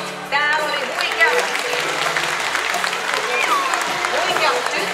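An audience at a children's orchestra event in Heinola claps throughout, a steady round of applause with voices and some higher tones sounding over it.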